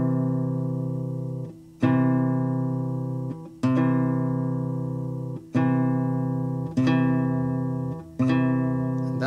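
Classical guitar sounding a C and an E in quick succession, the paired notes repeated five times at a steady pace, each clear plucked attack ringing and slowly decaying before the next, close and alone with no talking.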